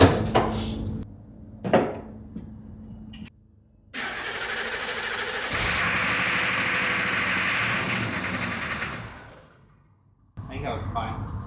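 An abandoned Humvee's engine cranks and catches, then settles into a loud steady idle for several seconds before dropping away; brief knocks and a voice come before and after.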